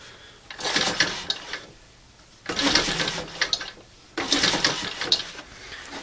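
The flywheel of a 1929 Briggs and Stratton FH engine is turned over by hand in three separate close bursts of mechanical whirring and clicking, with short quiet gaps between them.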